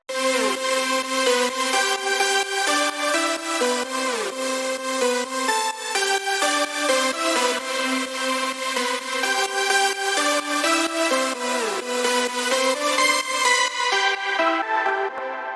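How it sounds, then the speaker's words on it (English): A big layered synth drop lead built in FL Studio, stacked leads playing a dense, bright chordal melody that stays loud and continuous throughout, with no voices. "we get this one big drop lead sound."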